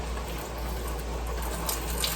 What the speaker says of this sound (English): I'm gonna pour out the water and try to prevent the rice from going inside the sink